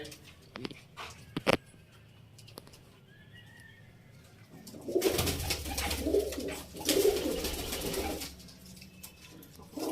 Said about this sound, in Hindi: ये वो कबूतर हैं घर में